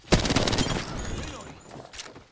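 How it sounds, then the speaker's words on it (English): Rapid gunfire from a weapon in the Apex Legends video game, a quick close burst of shots that trails off into a softer rattle with faint game noise behind. "Opening fire on the enemy."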